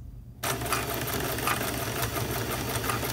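A sewing machine runs steadily through a zigzag stitch, going back and forth over a sundress being upcycled into a skirt, starting abruptly after a brief quiet moment and whirring close and continuous to the end.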